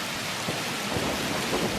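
Heavy rain pours steadily in a thunderstorm, with low rumbles of thunder rolling beneath a dense, continuous hiss of falling water, close and loud throughout with no voices.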